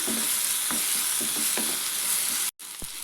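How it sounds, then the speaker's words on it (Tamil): Ginger garlic paste and green chilies sauté in a pan, sizzling loudly and steadily while a spoon scrapes and stirs in several soft strokes, with a brief cutoff near the end. "இப்போ இது பச்சை வாசனை போக வதக்கலாம்"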